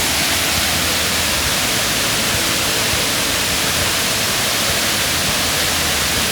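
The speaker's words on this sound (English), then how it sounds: "We have arrived at the waterfall, and I can show you how it looks like." A Mauritius waterfall pours as a loud, constant broadband roar of rushing water, close and unbroken throughout, with no voices.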